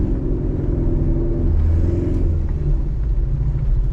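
A Corvette C7 Stingray Z51 drives slowly around a lot, its engine giving a steady, loud low rumble with a mild rise in revs midway, close and continuous with no talk.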